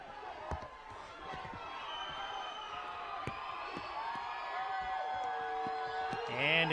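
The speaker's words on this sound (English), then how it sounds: "And again, the crowd trying to help out this Tiger defense." A high school football crowd cheers and shouts in the stands at an Ephrata vs Prosser game, backing the Tiger defense; the broad, fairly distant roar sits under an announcer's talk.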